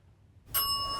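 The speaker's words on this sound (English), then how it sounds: "If you're here, Mary, could you ding one of those bells?" A small bell near a piano in an old farmhouse gives a single bright ding after a moment of near silence, its clear ringing tone sustaining and fading slowly.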